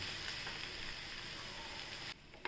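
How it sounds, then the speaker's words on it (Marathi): Rice with garlic sautéed in a pan gives a steady, soft sizzle that fades out near the end, with no voices over it. "छान परतून घेऊया आपण."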